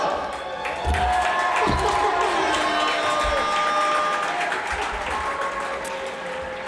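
A basketball crowd at The Hague Royals versus Feyenoord game bursts into applause and cheers for the new mascot, a loud, sustained clapping wash with whistles and shouts mixed in, tapering slightly toward the end.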